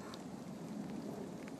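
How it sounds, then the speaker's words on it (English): Steady rain falls outdoors, a soft continuous hiss of drops on surfaces with no distinct thunder, fairly quiet and even throughout. "It's been raining now for like, what, 10 minutes?"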